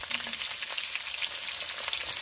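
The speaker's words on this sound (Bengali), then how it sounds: "আলুগুলোকে আমি এখন ভেজে নিচ্ছি" Potato pieces fry in hot oil in a pan for a homemade chicken dish, giving a loud, dense, steady sizzle with crackling pops throughout and no voices.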